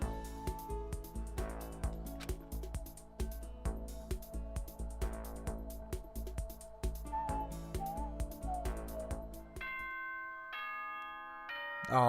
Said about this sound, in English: Oh, ding dong bing bong already?